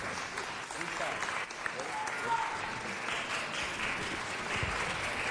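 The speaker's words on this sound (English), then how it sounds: "Give her a round of applause." City council meeting audience applauding an honoree, a sustained wash of many hands clapping in a large room that continues throughout, with a voice speaking over the applause.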